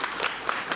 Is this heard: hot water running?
no